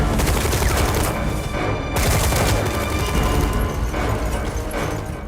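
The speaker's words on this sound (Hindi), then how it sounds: "उन्होंने विधायक की गाड़ी पर AK-47 से गोलियों की बौछार कर दी।" A dense, continuous volley of AK-47 rifle gunfire rips out in sustained rapid bursts, loud and close, with no pauses and no voices.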